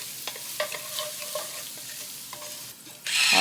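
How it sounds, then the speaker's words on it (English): Oregano and basil stirred in a hot pot for a one-pot zucchini basil pasta, giving a steady close sizzle with scraping stirring strokes and a brief hotter hiss near the end. "we're going to add our oregano and basil and stir"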